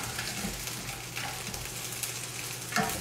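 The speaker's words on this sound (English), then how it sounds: "You can hear these cranberries starting to heat up." Soft sizzling and crackling from cranberries heating in a hot pan runs steadily throughout, with a few faint clinks, quiet and close.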